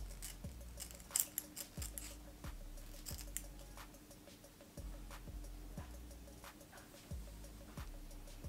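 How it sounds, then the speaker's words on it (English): Scissors snip hair close to the hairline, making a series of quiet, close, crisp cuts in an uneven rhythm over a faint steady hum. "So you want to cut like pretty close to the hairline."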